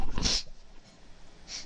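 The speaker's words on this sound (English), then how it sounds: "I have sneezes." A person sneezes once, a sharp close burst at the start, followed by a quiet pause and a faint breathy sniff near the end.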